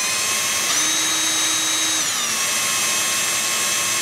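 Power drill boring a pilot hole into a plastic aerosol spray cap, a steady high-pitched whine with a lower motor tone that rises in pitch for about a second, then eases off, loud and close with no talk.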